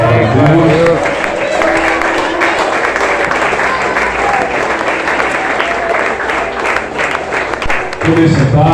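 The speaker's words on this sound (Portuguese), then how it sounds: "Pode aplaudir a palavra de Deus." Loud, sustained applause fills a church as a congregation claps after a sermon, with a voice rising briefly at the start and again at the very end over the dense clapping.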